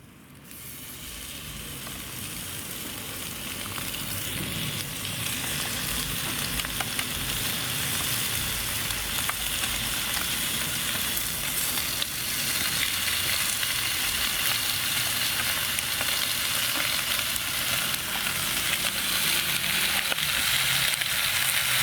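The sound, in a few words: bacon sizzling in a pan on an outdoor twig stove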